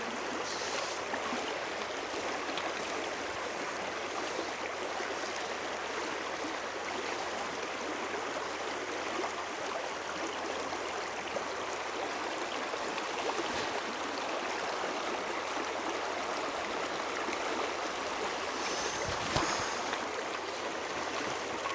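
A shallow riffle on the River Vyrnwy flows in an even, continuous burble and hiss, fairly quiet and unbroken, with no voices over it.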